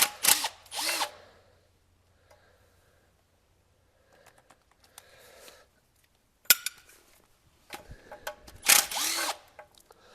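A power tool whirs in short bursts while removing bolts from the engine of a 1973 Mercury Cougar, the loud close runs separated by quiet pauses and faint clicks of handling.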